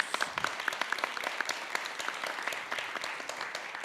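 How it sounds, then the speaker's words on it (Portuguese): A conference audience at a Brazilian business congress panel applauds, dense continuous clapping from many hands filling the room at moderate loudness without pause. "Uma salva de palmas."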